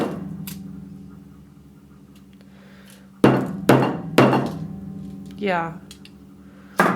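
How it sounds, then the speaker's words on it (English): Hammer blows on a frozen-solid pumpkin pie: three hard, close thunks in quick succession near the middle, with a brief word spoken and a faint hum underneath. "Still have the hammer."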